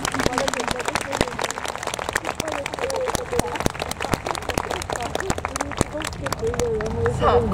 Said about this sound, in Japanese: 皆様もう一度大きな拍手をお願いします